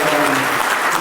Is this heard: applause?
yes